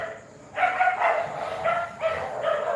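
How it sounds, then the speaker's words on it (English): Several dogs fighting in a backyard in the Philippines, with a burst of rapid, snarling barks and yips repeating in quick clusters, fairly close and loud. "dogs in my backyard fighting"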